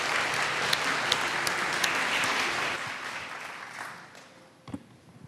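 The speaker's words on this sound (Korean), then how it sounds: "우리 뜨거운 환영의 박수로 맞이하면 좋겠습니다" Congregation applauding in a church to welcome a woman coming forward to give her testimony, a dense steady clapping that holds for a few seconds and then thins out and fades.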